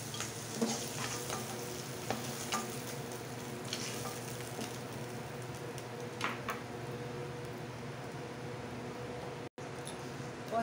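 Pointed gourd (parwal) pieces fry in hot oil in a home kitchen, giving a continuous, close, crackling sizzle with occasional stirring scrapes. No one speaks.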